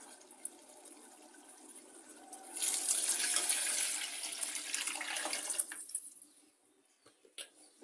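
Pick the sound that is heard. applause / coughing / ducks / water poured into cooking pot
water poured into cooking pot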